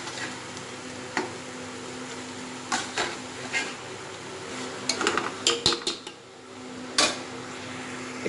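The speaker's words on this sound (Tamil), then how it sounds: "இப்போ இதை நம்ம நல்லா மிக்ஸ் பண்ணிவிட்டு நல்லா ஒரு 5-6 நிமிஷத்துக்கு நம்ம இதை வேக வைக்கணும்." Marinated chicken being mixed in a pot for Dindigul thalappakatti style biryani, with a soft background sizzle broken by scattered clinks and scrapes of a spoon against the pot, close and moderately quiet.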